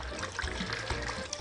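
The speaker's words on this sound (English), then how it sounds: "And you pour the lime juice" Lime juice pouring over raw fish and onions for Peruvian ceviche, a soft, close liquid trickle that runs steadily for a brief moment with no talking.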